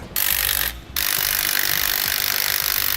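3/8 locking nuts on a SumoSprings helper spring bracket on a 2016 Ford truck are run down by a power tool, giving a continuous whirring buzz interrupted by a brief pause, then resuming steadily.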